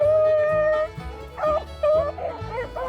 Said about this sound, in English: it's just the sounds of the dogs running